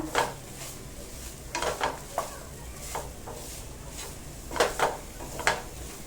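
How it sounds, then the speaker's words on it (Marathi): Jaggery melts in a pan over a low gas flame while a spoon stirs it, giving soft scraping and clinking strokes in irregular bursts over a low steady background hiss, close and moderately quiet. "गॅस मंद ठेवून आहे ना आपण गुळ वितळेपर्यंत ना व्यवस्थित असं मिक्स करत राहूया"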